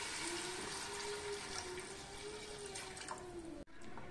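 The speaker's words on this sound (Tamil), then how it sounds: "இந்த கிளாஸ்க்கு நாலு கிளாஸ் தண்ணி ஊற்றிக்கணும்." Water pours steadily into a pot of lightly fried, salted chicken for homestyle hot and sour soup, a continuous quiet gush that cuts off abruptly near the end.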